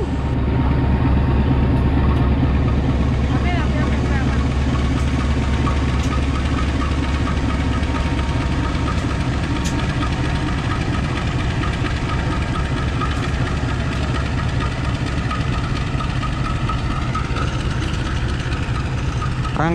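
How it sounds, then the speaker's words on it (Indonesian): Matarmaja passenger train locomotive idling at Malang station after being shunted and parked, a steady loud diesel rumble with low knocking throb that continues without a break, faint clanks and station noise above it. "Rangkaian kereta api Matarmaja ini dilangsir dan diparkir di stasiun Malang."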